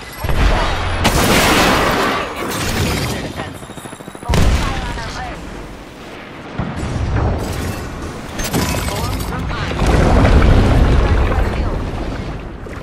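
Loud video game firefight with bursts of gunfire and heavy grenade blasts, dense and continuous over about thirteen seconds, with chatter and callouts mixed in throughout.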